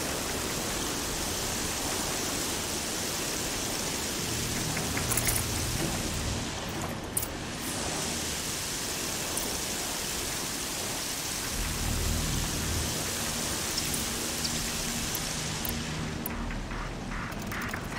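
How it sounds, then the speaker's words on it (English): Heavy rain pours steadily in the video game Horizon Zero Dawn, a dense, loud, continuous wash of noise with a few faint low rumbles beneath it and no talking. "Raining like it's trying to wash everything away."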